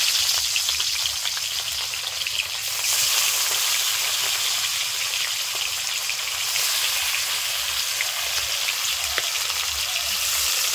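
Ritha fish pieces fry in a pan of oil with a loud, dense, unbroken sizzle and fine crackling spatter throughout, no voices.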